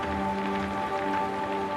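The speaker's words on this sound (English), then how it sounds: "Listen to how the continuous, rhythmic falling of the rain validates your deep recovery." Continuous rain falls in an even, rhythmic wash, loud and close, with steady sustained tones humming beneath the downpour in a soothing sleep soundscape.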